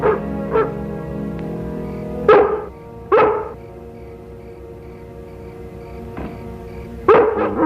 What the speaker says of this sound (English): Lassie started barking, then she jumped out the window and headed for the woods.